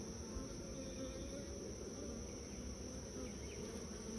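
A dense colony of honey bees hums steadily from an open, crowded hive, the close buzzing swarm forming a continuous drone with no voices.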